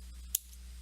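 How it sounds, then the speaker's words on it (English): A single quick snip of scissors trimming the ends of a ribbon bow on a handmade card, crisp and close against a quiet room hum. "I will go ahead and trim my bow"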